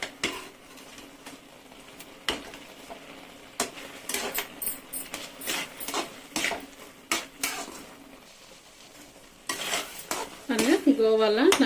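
A spoon scrapes and clanks against a pan while carrot halwa and khoa are stirred together, irregular close metallic scraping strokes over a faint sizzle, growing busier toward the end.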